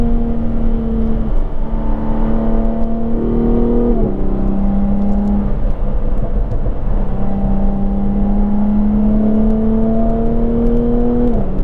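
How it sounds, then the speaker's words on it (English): A Jaguar F-Type sports car drives hard with a loud, close exhaust note that rises through the gears in repeated climbing sweeps, with brief shift breaks between them and no talking. "When you accelerate and when you decelerate, the pops and cracks on the overrun are just"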